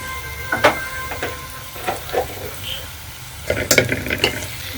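Clams are stirred in a pot with tomato and salt, giving scattered scraping clicks and rattles of shells against the metal, some in quick clusters, over a low steady kitchen background with no talk.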